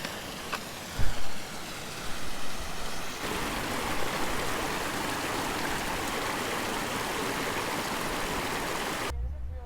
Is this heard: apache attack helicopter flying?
no